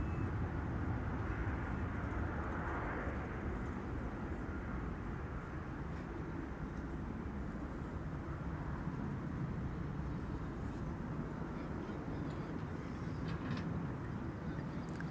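An American Airlines jet at Amsterdam Schiphol Airport gives a continuous, broad engine roar, steady and fairly distant throughout with no change in level and no voices.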